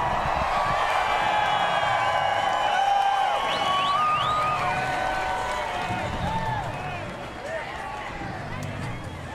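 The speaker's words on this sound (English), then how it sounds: "now he climbs out and the crowd roars" A big crowd roars and cheers at a NASCAR Cup race at New Hampshire Motor Speedway, loud and sustained under an announcer's voice, easing slightly toward the end.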